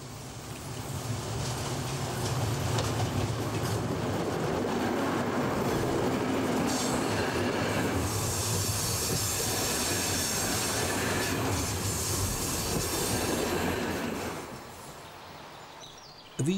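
Reichsbahn diesel locomotive 228 769 rolls into Ilmenau-Bad station with a heavy rumble, clattering wheels and some squealing. The sound stays loud and sustained, then eases as the train slows toward the end.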